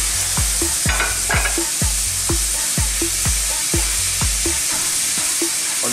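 Beef steak sizzles loudly in a pan with butter, vodka and seasoning, a steady frying hiss broken by a regular series of low thumps from stirring or turning, close and continuous with no talk.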